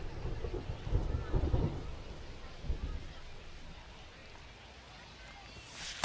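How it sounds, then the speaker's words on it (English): Heavy rain pours down over a baseball stadium in the video game MLB The Show 25, a steady broadband wash with low rumbles early on, the downpour continuing throughout at moderate level. "We're coming right up against it with the way this rain is coming down"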